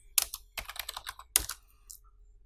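Keys clack on a computer keyboard as shortcuts are typed, a few sharp close taps in small bursts separated by short quiet gaps.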